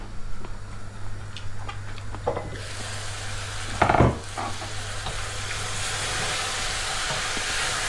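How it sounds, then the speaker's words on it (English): A pot being stirred while cooking, a soft scraping swish with a brief louder clatter midway, set against a steady bubbling, sizzling wash and a low background hum. "and stir the pot."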